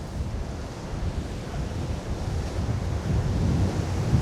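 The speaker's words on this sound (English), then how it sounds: "very, very windy." Strong wind gusting across an open hilltop in Worcestershire, a steady loud roar buffeting the microphone and swelling slightly toward the end, with no talk.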